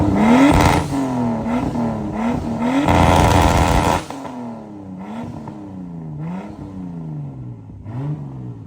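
A Nissan R34 Skyline with a newly fitted exhaust is revved in short, loud blips for about four seconds, then drops back to a rough, burbling idle with the odd light rev, close by with no talking.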